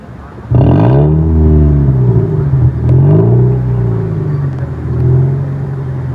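A restored 2002 Toyota SE Saloon 1.6 with an exhaust cutout revs loudly up close, engine pitch climbing and falling in several swells over a steady idle rumble.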